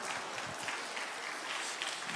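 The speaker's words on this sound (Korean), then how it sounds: "박수 칠 일은 아닌데" A youth worship gathering applauds during a pastor's sermon: a soft, distant wash of clapping that stays even and continuous, with no talking over it.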